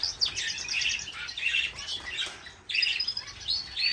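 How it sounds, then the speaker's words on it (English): Finches and canaries chirping in an aviary, including shaft tails, fifes and Irish fancy canaries: a dense, bright chatter of overlapping tweets and short calls, close and steady, with a brief lull partway through. "some of the birds that I pulled from the back, from the flight pen, the aviary"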